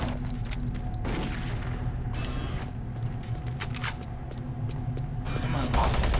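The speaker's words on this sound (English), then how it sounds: "I'm hearing gunshot." Gunfire in the video game Doom 3 cracks out in several sharp bursts over a low, creaking mechanical ambience, with a louder burst of shots near the end.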